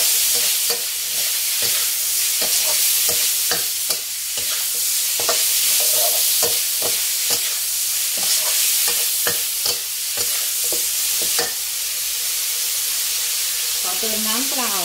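Long beans and minced pork stir-fry in a hot pan, a loud continuous sizzle broken by rapid, repeated spatula scrapes and clacks throughout.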